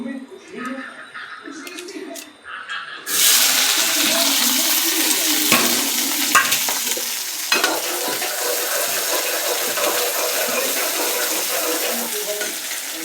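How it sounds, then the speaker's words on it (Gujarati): Onions and mustard seeds fry in a pan with a loud, steady sizzle that starts abruptly and continues, with occasional clanks of utensils; a voice talks softly before the frying begins. "અને ફ્રાય કરવા દઈએ, થોડી વાર મિક્સ થઈ જાય."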